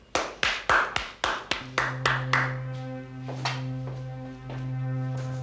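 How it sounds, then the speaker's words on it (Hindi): A small group claps in a brief, steady burst of about a dozen sharp claps that slow and fade, leaving a sustained musical tone ringing underneath. "अरे आप लोगों ने तालियां नहीं बजाई?"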